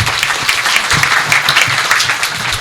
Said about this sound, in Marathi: हे आज आतापर्यंत जे होते त्यांच्यासाठी एकदा जोरदार टाळ्या